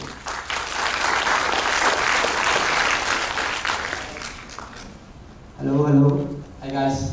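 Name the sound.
audience applause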